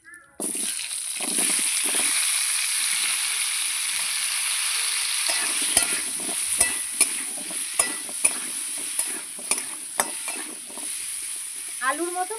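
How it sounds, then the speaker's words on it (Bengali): Cut pumpkin pieces frying in a pan with a steady, loud sizzle that starts abruptly and runs throughout, with scraping stirs and utensil taps growing more regular toward the end, cooked for a prawn and vegetable curry. "এই যে কাটা কুমড়োটা ভেজে নিচ্ছি।"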